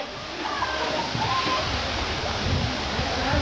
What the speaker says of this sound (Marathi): बघा मस्त धबधबा